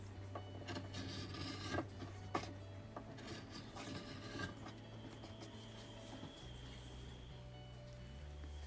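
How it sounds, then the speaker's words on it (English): A rotary cutter slices fabric squares cut from old baby clothes for a memory quilt, giving a steady scraping rasp with several sharper strokes over a low motor-like hum, close and moderately loud, no speech. "I'm using a rotary cutter here, so it's so easy"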